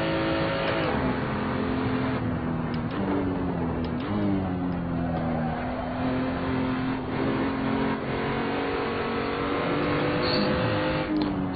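Race car engines in the Assetto Corsa sim racing game, loud and close, revving and accelerating through repeated gear-shift pitch climbs and drops, with faint tire noise and no talk.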